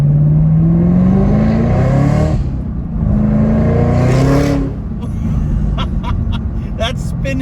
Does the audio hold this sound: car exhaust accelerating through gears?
yes